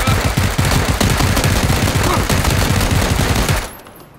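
Rapid automatic gunfire from a PlayerUnknown's Battlegrounds match, loud and continuous bursts rattling for several seconds before cutting off abruptly near the end.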